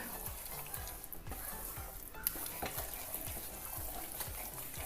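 Besan barfi mixture of gram flour is stirred in a pan at home, with a faint continuous sizzle and soft, regular scraping strokes repeating close by.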